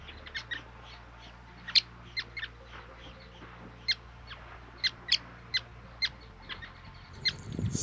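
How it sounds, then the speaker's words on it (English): Sociable weaver birds calling around their communal nest at Riemvasmaak: a series of short, sharp chirps scattered irregularly over a low steady hum, each call brief and fairly faint at moderate distance. "Spending time with my favorite birds, the sociable weavers"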